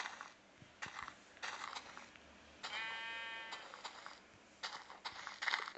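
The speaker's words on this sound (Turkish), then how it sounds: "Koyun neredesin?" Minecraft sheep bleating in a video game, a few short separate bleats with one longer wavering bleat in the middle, fairly faint and clear with no talk.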